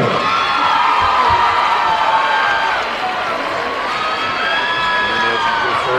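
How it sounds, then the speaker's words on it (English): A crowd at a girls' high school all-star basketball game applauds and cheers for an honored player, a sustained loud roar of shouts and whoops with an announcer talking over it. "the offensive player of the game of our big round of applause"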